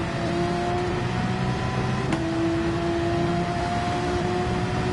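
Ferrari race car engine in the Gran Turismo racing game, a loud steady engine drone with sustained tones held throughout, with no talk.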